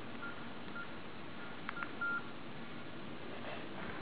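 An LG KS10 mobile phone's keypad gives a few short, quiet beeps as a PIN is entered, set against a steady hiss, with one slightly longer tone near the middle.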